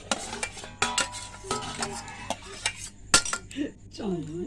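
Spoon clinking and scraping in a bowl while mixing chopped onion and egg for an egg sandwich, quick irregular taps and stirs up close, with a voice speaking briefly near the end.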